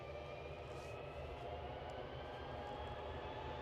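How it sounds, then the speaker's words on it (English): Vueling Airbus A321 departing Edinburgh airport, a steady, close jet engine roar with a broad low rumble and faint whine, holding level throughout without pause. "Vueling get us underway with an A321 departure to Barcelona."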